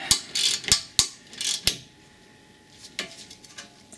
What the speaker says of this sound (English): Now I'm just doing them up a little bit with the wrench here before we do them up to spec